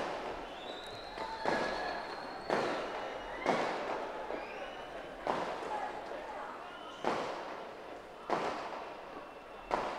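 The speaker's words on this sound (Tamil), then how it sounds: "தம்பி வெடியை நிறுத்தி சீக்கிரம்." Strings of firecrackers bursting outdoors during a Tamil community conference, with repeated sharp crackling bursts about every second or two and a steady background hiss of continuous popping.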